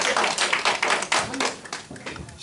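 A small audience at a church gathering claps sparsely, with uneven individual claps close by that thin out and fade over a couple of seconds.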